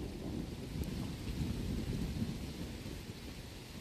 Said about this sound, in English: And the rains are coming.